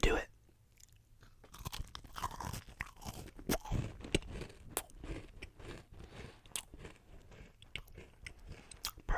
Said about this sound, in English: I am going to eat this cookie in front of you guys for the sake of ASMR